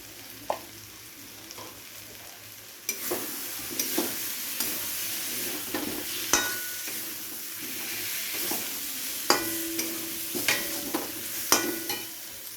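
Kashmiri chilli powder and spices frying in a pan for a fish head curry with potatoes, a steady close sizzle with repeated scraping stir strokes and spatula clinks against the metal.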